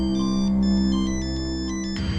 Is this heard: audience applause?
no